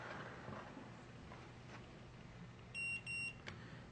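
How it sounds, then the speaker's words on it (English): A keypad door lock gives two short electronic beeps and a brief click after its set button is held, faint and close against low room hum. "Press and hold the set button for 2 seconds until it beeps and then let it go."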